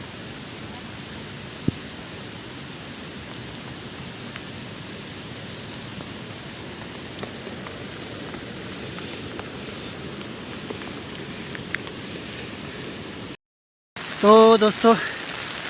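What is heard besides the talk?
rain falling during a mountain trek to Madmaheshwar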